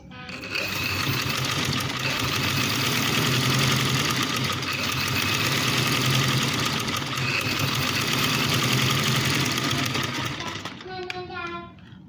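A sewing machine runs steadily for about eleven seconds, sewing a straight stitch on fabric with a dense continuous motor whir and rapid needle chatter, close and loud, then stops and leaves a few faint clicks.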